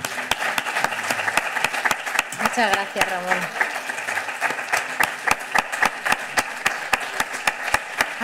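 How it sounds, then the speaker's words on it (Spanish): Applause rolls through a hall at the close of a mental health event, sharp individual claps standing out over a steady crowd patter, with a brief spoken thanks over it. "os voy a pedir que le demos un aplauso"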